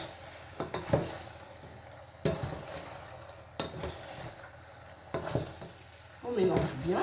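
A spoon stirs potato purée in a pan, giving intermittent scraping strokes against the pan with soft, thick mushing between them and a busier clatter near the end.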